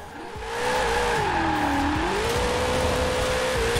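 A Studebaker in the racing game Forza Horizon 4 drifts through a corner, its engine holding a steady, wavering tone over a continuous tire squeal that swells in and stays loud to the end.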